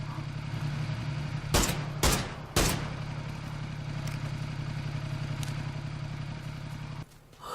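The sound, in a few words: motorcycle in video game PUBG Battlegrounds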